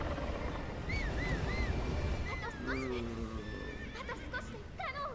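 A horse neighs in a Zelda game, several wavering whinnies cutting through a dense rumbling game soundscape, moderately loud over the continuous background.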